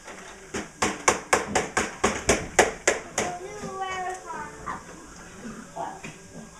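A rapid series of about a dozen sharp knocks, like a toy hammer pounding, followed by a voice and soft chatter.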